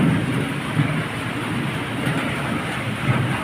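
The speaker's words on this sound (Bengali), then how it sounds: "বাইরে হুড়ুম দুরুম হচ্ছে বৃষ্টিতে।" Heavy rain in a fierce storm, a dense continuous roar of downpour with low rumbling underneath, steady and fairly loud, no voices.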